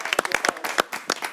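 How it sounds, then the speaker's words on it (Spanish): A small group claps at a family community event, with distinct, uneven hand claps close by, loosely rhythmic and fairly light. "eso vale un aplauso, qué bueno."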